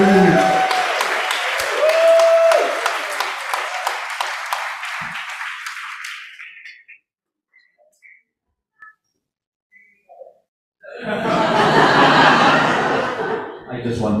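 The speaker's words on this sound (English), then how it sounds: "Massive round of applause" An audience at the All Ireland Poetry Slam applauds loudly, with whistles and chuckling, fading out into near silence before a second short burst of clapping and cheering.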